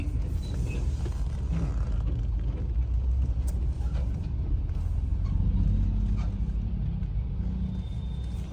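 Cars, a loaded tractor and paddy-laden tractor trolleys roll across a busy railway crossing, producing a steady close engine rumble with creaks and rattles throughout and no speech.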